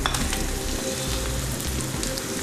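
Chopped onions sautéing in a pan for Bolognese sauce, a steady dense sizzle and crackle of frying that runs unbroken throughout, close and fairly loud, with no voices.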